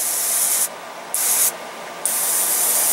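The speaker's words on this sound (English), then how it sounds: "I'm trying to give these plants a good blasting" A spray bottle mists garlic spray onto plants in three close, loud, hissing bursts separated by short pauses, each a bright airy spray sound.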